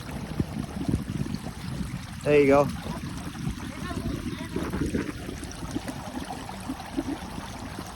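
Steady running water in a stream burbles in the background while a person speaks briefly near the middle.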